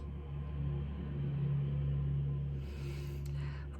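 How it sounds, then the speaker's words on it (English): A big truck rumbles past on a street where builders are working, a steady low engine drone that swells and lingers for several seconds before a faint higher clatter near the end. "that was like a big truck thing going past"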